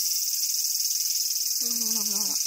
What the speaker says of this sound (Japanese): セミ鳴いてる、あ、おった、セミおった